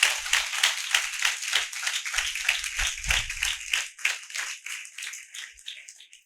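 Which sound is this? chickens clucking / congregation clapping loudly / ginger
congregation clapping loudly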